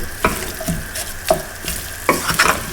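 Very lean beef mince sizzles in a pan over low heat, with a soft hiss underneath and several distinct scrapes and knocks as it is stirred.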